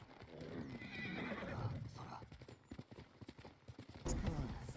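A horse in the Ghost of Tsushima video game whinnies and clip-clops along at a gallop, the hoofbeats steady and close, with a burst of louder movement near the end.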